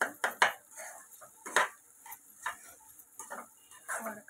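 Spiced potato filling being mashed and stirred in a pan, close clanks and scrapes of a utensil against the metal in an uneven rhythm, with soft squishy pauses between strokes.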